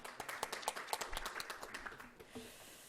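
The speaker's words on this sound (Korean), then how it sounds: "다시 한번 큰 박수 보내주시기 바랍니다" An audience at a national assembly health insurance policy forum gives a short burst of clapping that thins out, moderately near, with a voice briefly heard underneath.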